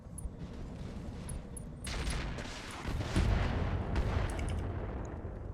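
Enemy weapons firing in a mech combat video game, a heavy, continuous barrage of booming shots and blasts that grows denser and louder midway, close and dominant.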